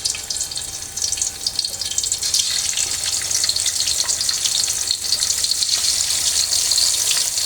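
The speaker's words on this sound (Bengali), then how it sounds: "আমি এখন একে একে মাংসগুলো ভেজে নেব" Chicken pieces fry in hot oil in a wok, giving a loud, steady crackling sizzle that fills the whole stretch without a break, with no voices over it.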